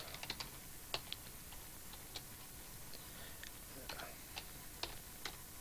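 A computer keyboard clatters with scattered, uneven key taps while text is entered in TeXstudio, the clicks close but faint over a steady hiss, with no speech.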